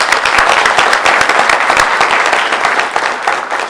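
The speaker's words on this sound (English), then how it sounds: "So let's give them a round of applause too" Close, loud applause from an audience at an honoring ceremony, with distinct individual hand claps standing out in a steady rhythm through a continuous wash of clapping, and no voices.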